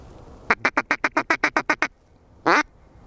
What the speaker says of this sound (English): Nice teal, looks like.